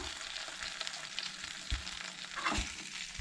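Chopped onion fries in butter in a pan for pav bhaji. A quiet, continuous sizzle runs throughout, with soft stirring scrapes now and then and no voices.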